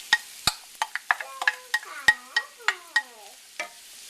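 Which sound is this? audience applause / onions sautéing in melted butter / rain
onions sautéing in melted butter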